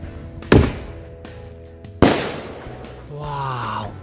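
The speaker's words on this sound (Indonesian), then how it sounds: "yang selanjutnya ini kita sumet mercon keras sakti" Two sharp, loud firecracker blasts of the "mercon keras sakti" type go off about a second and a half apart during a Lebaran celebration, each decaying quickly, followed by a voice exclaiming.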